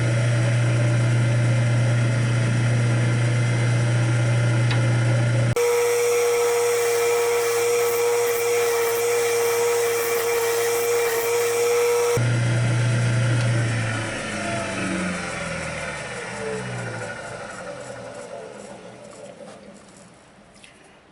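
A wood lathe spins a wooden bowl while a gouge cuts, giving a steady hum with a scraping, pattering cut and shavings coming off, before the sound winds down and fades toward the end.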